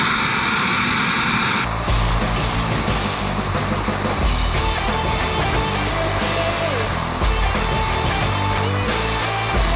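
An air impact wrench works loose the shock bolts on a Foxbody Mustang, a loud, dense rattling hammer that starts abruptly and runs continuously up close in a garage.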